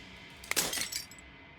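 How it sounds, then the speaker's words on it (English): Glass shatters in the video game Slay the Princess, a sharp crack followed by a bright tinkling spray of fragments that fades within a second, heard alone and close. "As the final fragment of glass shatters"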